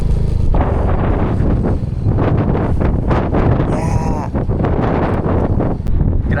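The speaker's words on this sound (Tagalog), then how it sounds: "Grabe hangin dito, nilakas." Strong wind in Batanes, Philippines, buffeting the microphone with loud, continuous roaring gusts throughout, with no voices.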